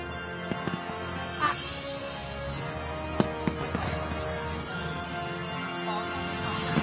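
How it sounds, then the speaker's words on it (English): New Year's fireworks bursting over the riverside in Bangkok, Thailand, a steady series of booms and crackling pops at middle distance over crowd noise, with scattered sharp reports standing out. "I love these fireworks."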